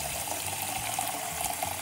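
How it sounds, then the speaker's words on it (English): Tap water runs steadily at a kitchen sink, filling a 28-ounce tomato can halfway, a continuous close splashing rush with no talk over it. "And then I'm gonna fill it with water."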